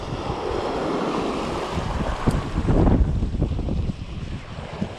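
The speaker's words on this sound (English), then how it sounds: "Wind's picked up again." Loud, steady wind gusts across an open coastline during sea bass fishing, with surf washing beneath and a stronger buffeting surge midway, no voices.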